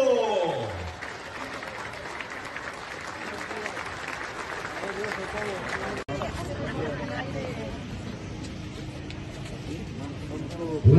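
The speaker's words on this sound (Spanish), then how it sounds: "¿Dónde está el aplauso fuerte de Huejotzingo?" A crowd in Huejotzingo, Puebla, applauds at a public welcome for the governor, a broad sustained wash of clapping mixed with crowd babble and outdoor noise, dipping briefly midway before continuing.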